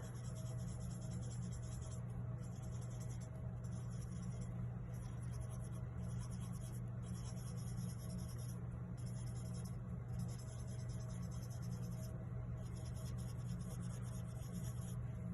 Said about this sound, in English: And now we're gonna go with the smudger.